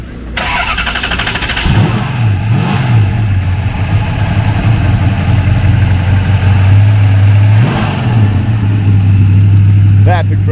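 A 1971 Hemi Charger at a car show starts up and settles into a loud, deep, lumpy idle with a couple of blips, while people talk nearby.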